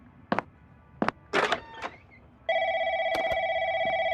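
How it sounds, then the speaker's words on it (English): Telephone ringing in a video game, a steady electronic ring tone that starts abruptly and continues, preceded by a few sharp knocks and clunks. "And now this phone's ringing."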